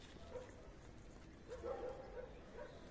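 Dogs bark in the distance outdoors at a seaside home around sunset, several scattered yaps heard faintly with the strongest cluster in the middle, set against quiet ambient background.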